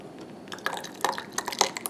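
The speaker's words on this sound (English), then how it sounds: "I'm just going to go on and continue filling up these jars" Fresh garden salsa being spooned into glass canning jars, with soft wet drips and plops and light clinks of glass and utensil, scattered irregularly and close by in a quiet kitchen.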